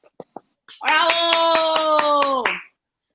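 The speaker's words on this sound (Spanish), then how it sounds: "Aplausos, por favor." A few sharp claps, then steady rhythmic clapping under a long sustained cheering tone that cuts off after about two seconds.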